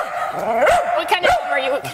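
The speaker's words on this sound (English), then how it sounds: "he's barking because he can see himself" A dog on a live television news broadcast gives several sharp, close barks mixed with whiny yips over about two seconds.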